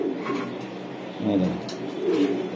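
High-flying Giribaz racing pigeons coo nearby in low, soft, rolling murmurs, repeating in a few short bursts.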